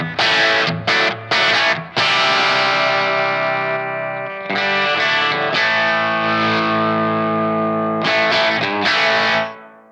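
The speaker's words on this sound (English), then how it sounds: "and then the optical compressor." Electric guitar played through the optical compressor effect on a Positive Grid Spark practice amp: a few short strummed chords, then long sustained chords that hold evenly with a smooth, level decay, loud and close with no talking.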